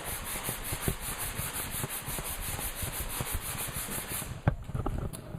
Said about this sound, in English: we basically try to sand all of the guide coat off